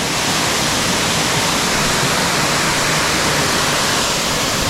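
A loud, unbroken roar of a monsoon waterfall at Asud village in the Konkan, plunging from a height, dense and constant throughout.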